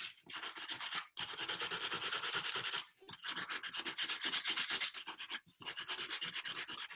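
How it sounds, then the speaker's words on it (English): Hand sanding with coarse 60 grit sandpaper to remove paintbrush marks, a steady close raspy rubbing in long continuous strokes, broken by three brief pauses. "So I'm going to use 60 grit first, and I'm going to eliminate all the marks left by the paintbrush"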